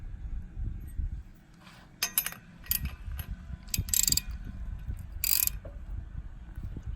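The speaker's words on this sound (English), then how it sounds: "I will get a pair of pliers and tighten that down" Pliers tightening a fitting on a BlackHawk TITAN 210 paramotor engine, giving a run of close, quiet metallic clicks and ratcheting scrapes, with two brighter clinking bursts partway through, over a low background rumble and no talk.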